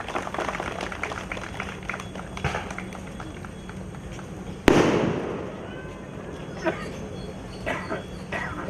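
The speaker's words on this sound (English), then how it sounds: "may I ask each one of you to please put your hands together" A sudden burst of crowd applause at a Goan wedding, loud and dense with clapping, then tapering into scattered claps amid background chatter.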